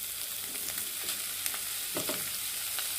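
Ginger-garlic and green chilies frying as minced mutton goes into the pan, producing a steady close sizzle with soft stirring scrapes and a few thumps of the spoon.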